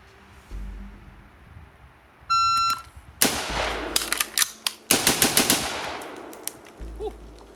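A PSA 16-inch Classic M4 upper fires a string of loud, sharp rifle shots in quick succession at an outdoor range. An electronic timer beep comes first, and there is a short pause partway through before more shots.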